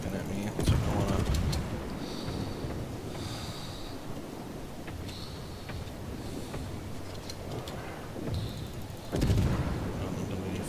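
Warship main battery salvos in a World of Warships naval battle, aboard the British cruiser Leander: heavy booming bursts at the start and again near the end, with softer rumbling between under steady game ambience.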